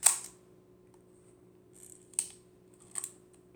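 Shutter of a Kiev rangefinder camera with twin cloth curtains firing in a quiet room, three short crisp mechanical clicks spaced about a second apart, close and alone.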